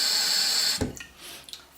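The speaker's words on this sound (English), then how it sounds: "Fill it up with water" Water runs into a vase with a bright, rushing pour that cuts off abruptly partway through, followed by a few faint splashes and drips, close and without talk.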